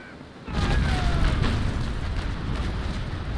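A sailing warship's cannon broadside fires in a naval battle game, a heavy booming roar that erupts suddenly and rolls on as a loud, sustained rumble of overlapping shots.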